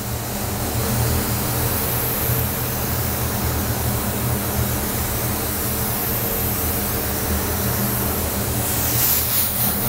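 A spray gun spraying hydrographic activator gives a steady, loud hiss of atomized spray that holds continuously without pause, close to the listener and alone.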